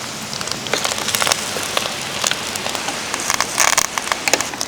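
Chopped onion fries in a hot pan with dried red chillies and curry leaves, giving a continuous close crackling sizzle with sharp pops scattered throughout.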